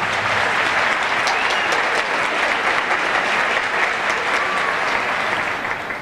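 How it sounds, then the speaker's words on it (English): Steady, dense applause from an audience filling both wings of a hall, loud and sustained throughout, tapering slightly at the very end. "You hear those applause on both wings?"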